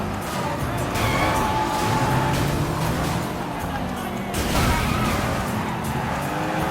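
Race cars in Sleeping Dogs rumble and skid, engines droning continuously with tire squeals and a couple of heavier ramming impacts, while someone talks over the action.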